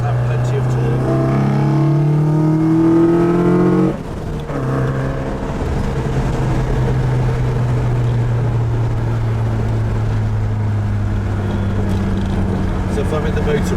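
A Ford Escort fitted with a 180 bhp ST engine swap pulls hard through its gears. The engine drones steadily and climbs in pitch, with a brief dip at a gear change, while someone talks over it from inside the car.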